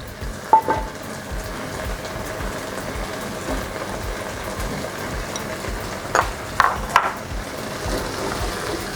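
Dry fish going into a sauce frying for abacha, a steady soft sizzle with a few light stirring and clinking sounds, close and alone.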